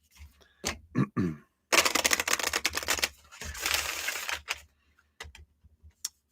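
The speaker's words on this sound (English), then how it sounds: "Let me shuffle these." Tarot cards riffled and shuffled at close range in two main bursts of rapid flapping, with short taps and card handling before and after; no talking.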